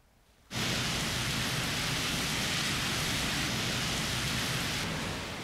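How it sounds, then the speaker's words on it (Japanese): Steady rain falling in Hamamatsu, Shizuoka, at the start of the rainy season, a dense, even hiss that swells in abruptly after a brief quiet moment and holds loud and constant to the end. "今日の県内は西部を中心に朝から雨が降り出しました"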